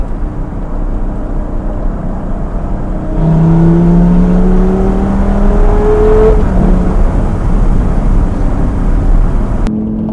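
A supercar accelerating hard with the window open: a broad, loud engine roar with rising tonal sweeps as it gathers speed, steady throughout with no talking.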